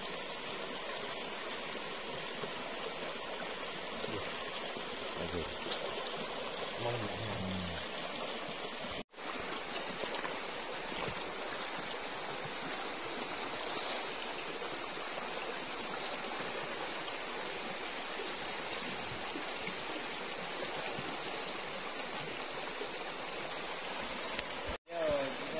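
River water rushing at a waterfall in Aceh, a steady loud hiss and roar of flowing water throughout, with occasional voices faintly underneath.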